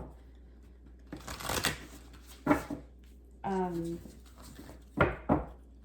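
Several short bursts of tarot cards being riffled and shuffled, close by, with a brief voice and soft background hum between them.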